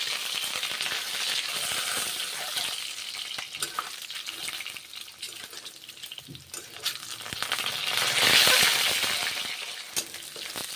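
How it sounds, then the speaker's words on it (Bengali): Eggs frying in hot oil in a pan with five-spice seeds, a steady close sizzle and crackle that rises to a louder burst of spitting near the end, with no voices. "ডিমগুলো ভেজে নিচ্ছি তেল গরম হয়ে গেছে"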